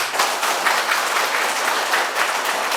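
An indoor audience at a political party members' meeting in Korea claps steadily, dense and sustained applause filling the room without a break.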